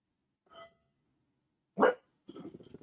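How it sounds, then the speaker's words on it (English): Two or three dog barks ring out in a quiet room, separated by pauses, the middle bark sharp and loud, the last a rougher, growly woof. "Sorry about the dogs barking."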